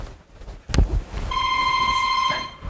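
A telephone starts ringing after a sharp knock, a loud steady electronic ring with a bright tonal pitch held for about a second before it cuts off, set in a comedy sketch at a class reunion.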